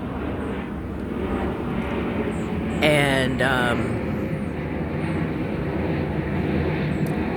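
Airplane passing overhead outdoors, a steady broad engine roar that swells slightly midway, with faint voices and ambient noise underneath.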